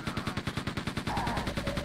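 Rapid automatic gunfire from the shooter game Quake II: Ground Zero, a fast, steady stream of loud, evenly spaced shots lasting throughout, with no talk over it.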